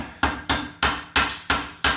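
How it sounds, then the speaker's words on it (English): Six sharp metallic hammer blows on a car part while fitting coilovers to an Audi TT 8N, at a steady, fairly quick rhythm, each ringing briefly before the next strike, close and loud. "Solutions that involve a hammer are the best solutions."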